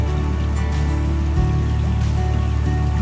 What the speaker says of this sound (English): That little stream.